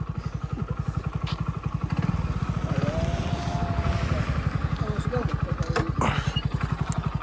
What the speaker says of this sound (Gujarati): એમનું બાઇક આવી રહ્યું